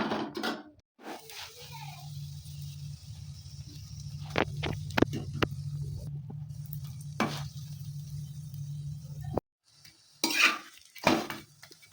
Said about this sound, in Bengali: আলুর পরোটা তো এইভাবে আমি সবগুলো ভেজে নেব